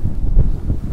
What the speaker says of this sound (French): On sent la mer, on sent le vent.